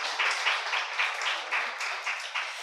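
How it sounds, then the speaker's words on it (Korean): Audience at a women's health forum lecture applauding, a steady wash of clapping with a gentle pulsing swell, no voices over it. "큰 박수 부탁드리겠습니다"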